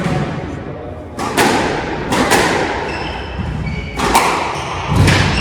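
Squash ball struck hard during a rally in a university sports olympiad final, giving loud, echoing thumps off the walls at irregular intervals, about four big impacts, under a noisy indoor crowd murmur.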